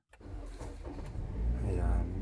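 A Toyota Corolla Cross, one with a battery that keeps draining, cranks and catches after a push-button start, settling into a steady low idle that grows slightly louder, with people talking over it.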